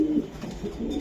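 A racer pigeon gives a short, low, throaty coo, close and clear, lasting about a second with no other sounds.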